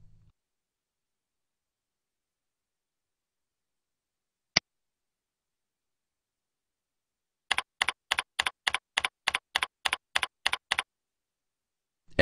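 Keystrokes on a computer keyboard entering a username: one isolated click, then a quick run of about a dozen crisp, evenly spaced taps, close and clear against silence.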